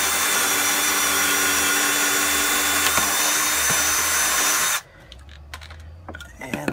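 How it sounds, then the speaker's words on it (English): A power drill bores through a wooden shim and leg while a portable cornhole board is built. The loud, steady whine and grind runs for nearly five seconds, then stops abruptly, leaving a few faint knocks. "Just drill straight through your hole."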